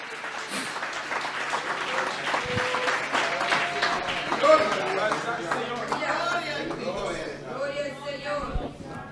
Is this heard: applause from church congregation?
yes